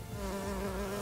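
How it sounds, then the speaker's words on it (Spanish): Steady insect-like buzzing from a bee attack in the video game Coromon, a continuous droning hum with stable tones that holds at an even level for the whole second, with no voices. "vamos a usar las abejas contra estos"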